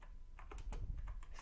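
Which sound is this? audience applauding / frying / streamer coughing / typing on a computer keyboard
typing on a computer keyboard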